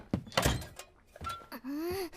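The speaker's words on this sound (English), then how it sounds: "don't slam doors" A door slamming shut in an anime episode, heard as a few sharp thunks and knocks close up, followed by rising tonal sounds.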